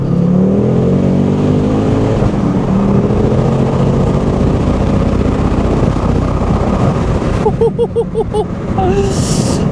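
Ford Focus RS Mk2 pulling hard through second gear, a loud, steady engine drone with rising harmonics that runs throughout, then rapid gear-change blips near the end.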